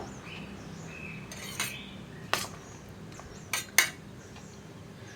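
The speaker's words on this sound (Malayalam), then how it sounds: "ഇനി ഇതിലേക്ക് നമ്മൾ മിക്സ് ചെയ്ത് വെച്ചിരിക്കുന്ന പുട്ടുപൊടി ഇട്ട് കൊടുക്കുക." Wheat and carrot puttu flour mix spooned into a puttu mould, several light metallic taps and scrapes of a spoon against the vessel over a quiet background, close and soft.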